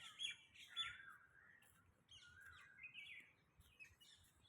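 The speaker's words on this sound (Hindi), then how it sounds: "ये कोयल कहाँ बोल रही है" An Asian koel calls among other birds on a rainy day in Delhi, faint and somewhat distant, with repeated chirping notes over a soft, steady background of rain and ambient noise.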